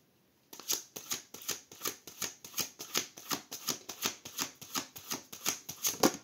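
A tarot deck shuffled by hand before a reading, a steady run of crisp riffling snaps at a brisk, even rhythm, close and clear with no talking.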